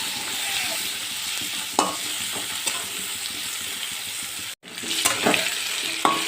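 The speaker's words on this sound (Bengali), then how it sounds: "আলুটা লাল লাল করে ভেজে নিয়েছি" Cut potatoes frying in a pan with salt and turmeric for a Bengali fish curry, a steady close sizzle with occasional scrapes and clanks of stirring and a brief pause partway through.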